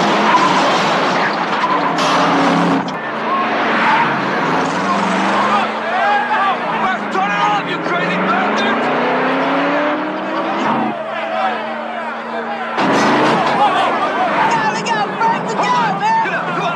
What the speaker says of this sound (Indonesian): Suara merdu mesin itu membuat Eclipse dan Dallas sampai terbangun